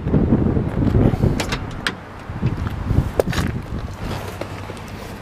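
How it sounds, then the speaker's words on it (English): A 1970 Plymouth Barracuda convertible cranks over with a rough starter whine, the motor churning loudly at first, then settling into a lower rumble with a few sharp clatters, with no talk. "those Mopars got that little whine, that starter whine"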